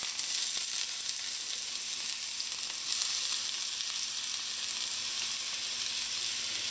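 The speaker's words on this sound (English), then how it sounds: "When your oil is hot, add your onions in." Onions sautéing in hot oil in a frying pan as the filling for Trinidadian fish pies, giving a loud, even, continuous sizzle with no talking.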